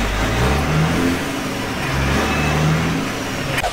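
A car engine revs in the video game Garry's Mod, a loud, continuous rough drone that swells and dips slightly throughout, with no talking over it.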